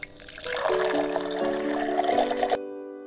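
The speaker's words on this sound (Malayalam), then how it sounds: "ഇതിലേക്ക് കുറച്ച് വെള്ളം ഒഴിച്ചു കൊടുക്കുക." Water is poured steadily into a plain glass holding decorative stones, with a rising fill tone that runs for over two seconds and then stops abruptly, heard up close and alone.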